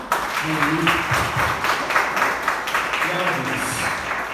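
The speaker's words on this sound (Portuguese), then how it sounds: "aplauda ao Senhor" Church congregation applauding during a leaders' and workers' gathering, a steady moderate wash of clapping with voices mixed in underneath.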